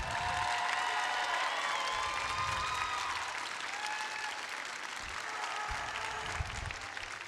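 Sustained applause from a large crowd in an arena at a robotics competition, steady and loud throughout with faint cheering mixed in, honoring the event's judges.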